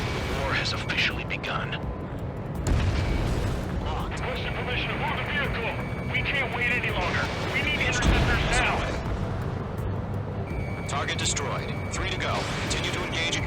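Anti-aircraft fire and explosions in the video game Ace Combat 7, booming blasts and rumbling under frequent radio-style game dialogue.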